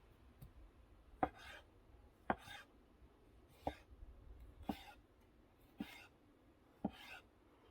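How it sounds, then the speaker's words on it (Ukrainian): A kitchen knife slices through a tomato in a string of about six soft, evenly spaced cuts, each a brief crisp snap with a faint trailing rustle, quiet and close. "Ріже без проблем помідорку"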